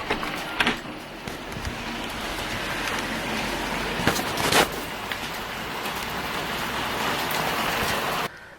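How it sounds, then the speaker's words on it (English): Heavy rain pours outside on a grey day, a steady broadband hiss with a few louder splashes, constant and moderately loud until it cuts off abruptly at the end. "it is pouring with rain"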